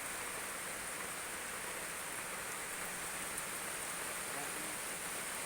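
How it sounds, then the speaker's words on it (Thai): Steady rain falls in a continuous, even wash of hiss, neither close nor distant, with no breaks or distinct drops standing out. "ฝนตกเลย"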